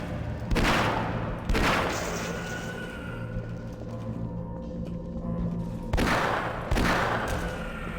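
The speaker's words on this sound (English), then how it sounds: "Shooting aliens in the face with a big gun." Heavy gunfire from a big gun blasting aliens in a video game, several loud booming bursts around half a second and again near six seconds, with a rumbling tail between shots and no voices.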